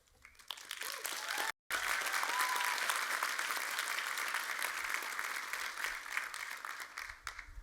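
Family and friends applaud at the Stanford Law School diploma ceremony for the class of 2025, a broad, steady roar of clapping from a large audience, broken by a brief dropout and fading slightly at the close.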